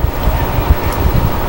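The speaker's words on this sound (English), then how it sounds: "Wind blowing a little bit out to left today." Wind buffets the microphone at an outdoor baseball field during a Revs vs Patriots game, a steady low rumbling gust that fills the whole moment with no clear talk.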